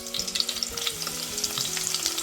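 Chopped onion, garlic and chilies fry in oil with salt, giving a continuous close crackling sizzle with dense pops throughout and faint tonal sounds in the background.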